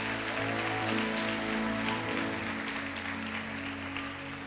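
Audience applause fills a church worship service hall, a steady dense wash of clapping sustained throughout at a fairly loud, even level, with no speech over it.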